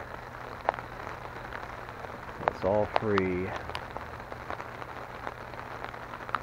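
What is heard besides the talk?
rain falling on tarps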